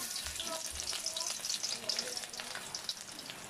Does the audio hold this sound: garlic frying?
yes